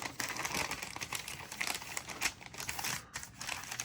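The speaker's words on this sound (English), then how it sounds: "So I fold the sides down and I crease it." Wrapping paper being folded and creased around a gift, crisp close crinkles and short rustling strokes in quick irregular bursts, no voices.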